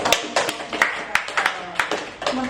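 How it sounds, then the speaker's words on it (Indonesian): Audience applause at a group guidance session, a run of sharp hand claps in an irregular rhythm, moderately close and fairly loud. "kasih tepuk tangan dong buat."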